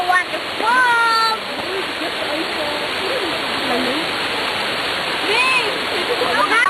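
A deep waterfall at Dahilayan pours in a loud, unbroken rushing roar close by, with people calling and chatting over the steady noise of falling water.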